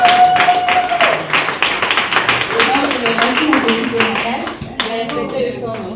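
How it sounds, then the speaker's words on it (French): Clapping from a small audience, hands tapping in uneven bursts over several seconds, with voices talking and cheering in the background at a testimonial gathering. "Applaudis."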